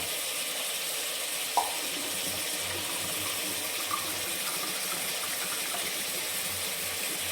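Water runs steadily into a cup while rice is measured for chicken banana leaf biryani, a continuous hissy pour with one sharp clink of the cup early on, no speech.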